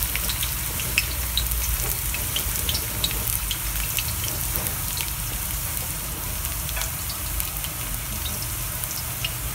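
Ginger and garlic fry in hot cooking oil with a loud, continuous close-up sizzle full of tiny pops and spatters that holds steady throughout, with no one speaking.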